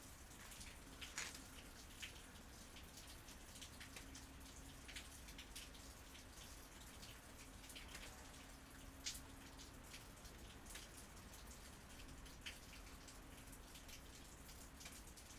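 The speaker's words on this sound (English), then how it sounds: "now you think the rain sounds like sizzling bacon" Steady rain falls outdoors in a dense, hissing wash, with scattered sharper drips and pattering hits that crackle much like sizzling bacon. No voices are heard.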